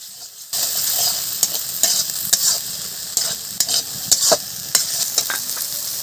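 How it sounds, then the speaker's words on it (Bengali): A spice paste with turmeric is stir-fried in a pan, starting abruptly into a close, steady sizzle punctuated by repeated sharp scrapes and taps of a spoon against the pan. "মশলাটা এবার ভালো করে কষে নেব।"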